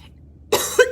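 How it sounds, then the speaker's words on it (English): A single rough, hacking cough bursts out close and loud after a short silence, with a second harsher push following right behind it. "I still have a hacking cough like 2 weeks later"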